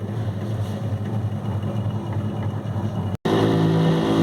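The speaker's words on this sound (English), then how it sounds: "you can increase the speed of the disc. Okay, let us wait for some reaching the constant speed" Gyroscope disc spinning steadily at a constant speed of around 2280 to 3280 rpm, giving a continuous, even motor-like whir close by, with a brief dropout near the end before the hum resumes.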